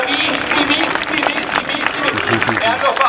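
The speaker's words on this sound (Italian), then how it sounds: "Un applauso grandissimo ai bimbi delle scuole dell'infanzia" Crowd applauding nursery school children at an outdoor National Unity and Armed Forces Day ceremony in Santena, Italy; dense, steady clapping runs throughout at close range, with a voice speaking over it.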